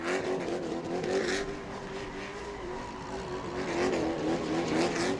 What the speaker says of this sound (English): with the donuts to celebrate the final win